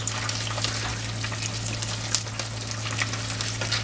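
Battered catfish pieces sizzle steadily in hot oil in a pan while being stirred, a continuous close crackling hiss with small irregular pops and spatters, no voices.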